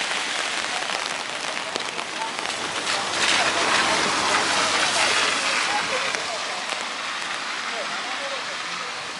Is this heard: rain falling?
yes